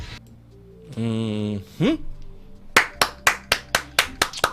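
Hand claps ring out as a steady run of about eight sharp, evenly spaced claps near the close, after a stretch of a voice speaking, with a brief rising whoop and a sustained musical tone before them.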